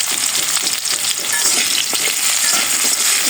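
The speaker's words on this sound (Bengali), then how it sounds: "এখন একটু ভেজে নেব" Potatoes with salt and turmeric frying in a pan, a steady loud sizzle with scraping stir sounds running throughout, no voices.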